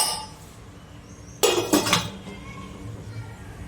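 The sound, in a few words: plate or lid set over a cooking dish to cover it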